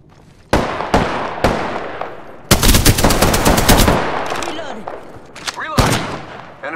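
A video game shooter fires loud, close gunshots: a few single shots, then a rapid automatic burst, then scattered shots as the echoes fade.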